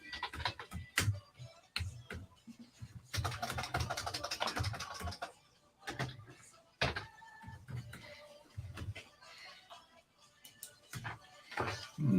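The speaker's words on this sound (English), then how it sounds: "we're tapping away on our keyboards here, aren't we?" Keyboards clatter with scattered clicks and short rapid bursts of keystrokes in a local community radio studio, moderately close, with occasional sharper knocks and faint voices in the room.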